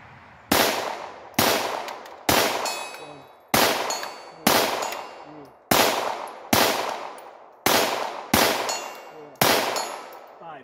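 Ruger Mark IV pistol fired at a target 65 yards away: eight sharp, loud shots spaced a second or so apart, each with a ringing decaying tail, no talk.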